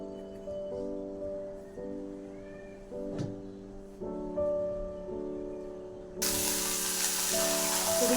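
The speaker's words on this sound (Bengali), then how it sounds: "ডিমটা ভেজে নেব।" An egg frying in a pan bursts into a loud, steady sizzle during the last couple of seconds, over quieter tonal background music that plays throughout.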